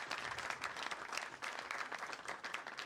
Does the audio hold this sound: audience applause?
yes